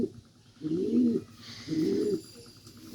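A pigeon coos in two low, rolling bursts close by, with faint chirps and background hum between the calls.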